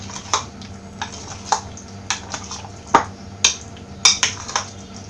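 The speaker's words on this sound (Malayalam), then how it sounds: "ഇത് ചിക്കന് നന്നായിട്ട് മിക്സ് ചെയ്യാം" Chicken is mixed with masala in a bowl for a Kerala chicken fry, giving a steady run of short, sharp clicks and scrapes of a spoon against the bowl, close and evenly spaced, with no talk.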